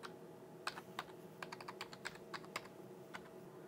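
Quick bursts of clicky keystrokes on a computer keyboard as a password is entered, close and fairly quiet, with short pauses between clusters of presses.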